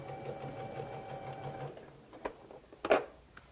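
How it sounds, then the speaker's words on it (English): A sewing machine runs steadily as quilt pieces are chain-sewn onto an anchor cloth for a log cabin courthouse steps quilt, its even mechanical hum stopping partway, then a few close clicks and knocks. "we'll sew onto the anchor cloth"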